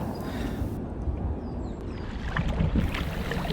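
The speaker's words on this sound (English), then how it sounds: "I'm paddling back down Neyland Marina" A kayak paddled through sheltered water near Neyland Marina on the River Cleddau, giving soft continuous splashing and dripping strokes close by, with light wind noise over the microphone.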